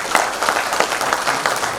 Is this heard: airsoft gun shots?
no